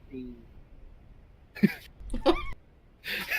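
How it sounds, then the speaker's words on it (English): A woman coughs a few times in short, raspy bursts, close by, with brief quiet gaps between them. "And she just starts coughing."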